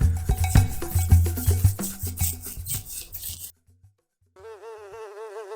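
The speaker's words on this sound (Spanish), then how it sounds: "Después de los piojos llegaron las moscas, en tal cantidad como nunca antes se había visto." Dense, busy buzzing of a huge swarm of flies that cuts out abruptly midway, followed by brief sparse rumbles and a higher wavering drone.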